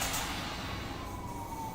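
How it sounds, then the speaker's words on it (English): Emergency vehicle sirens in Los Angeles during protest aftermath with a heavy police presence, a steady wailing tone over loud continuous street rumble and noise. "Right now, what you hear, though, are some of the sirens because law enforcement have really kind of situated themselves here."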